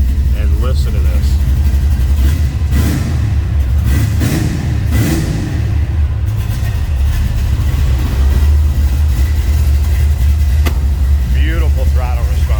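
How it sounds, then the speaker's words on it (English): Close, loud revving of a 1970 Chevrolet Nova engine with quick throttle blips that rise and fall over a rumbling idle, a few sharp surges early on, with people talking nearby. "Beautiful throttle response."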